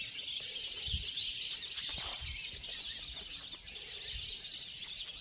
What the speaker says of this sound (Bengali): পাখির আওয়াজ শুনতে পাচ্ছি।